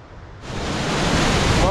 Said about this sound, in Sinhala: විශාල වතුර ශබ්දයක් ඇහෙනවා.